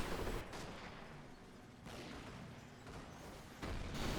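Shots from a 17-pounder anti-tank gun and other weapons in a World War II style war video game, heard as several loud booming bursts over a continuous rumble of battle, with a fresh blast at the end.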